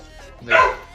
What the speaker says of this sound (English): The dog doesn't like me vlogging.